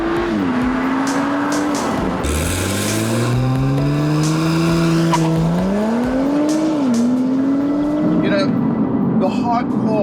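A 2.9-litre twin-turbo Audi RS4 Avant drives hard, its engine rising in pitch through each gear with quick drops at the shifts. The sound is loud and close, with a faint squeal near the end.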